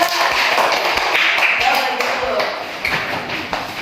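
Classroom applause for a Year 5 student group, a dense, steady patter of many hands clapping close by for nearly four seconds, with voices mixed in underneath and the clapping thinning slightly toward the end.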